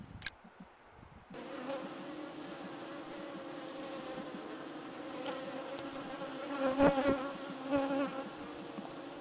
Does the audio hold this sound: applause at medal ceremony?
no